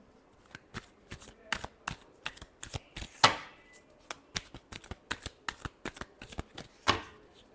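Tarot cards are shuffled by hand in a rapid series of crisp riffling snaps and slaps, irregular but frequent, close and fairly loud, with no speech over them.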